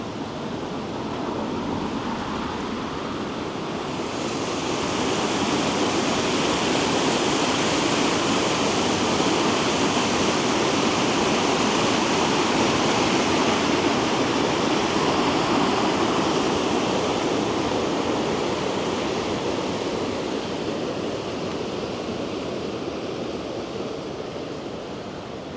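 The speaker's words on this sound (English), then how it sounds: "Just over on the left we're coming to where the Glenroy River joins the Laxey River, and it's normally quite impressive." The Glenroy River rushes loudly where it joins the Laxey River, a steady, dense roar of flowing water that swells slightly and holds for the whole stretch, with no voices.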